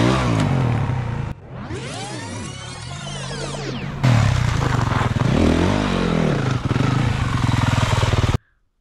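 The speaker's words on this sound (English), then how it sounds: "I'm able to spin around sitting down on the pea gravel without putting my foot down" A Yamaha WR450F dirt bike engine pulses and revs continuously up close while the rider spins it around on pea gravel, with swelling throttle surges, gravel scraping under the tyres and a quick cut-off at the end.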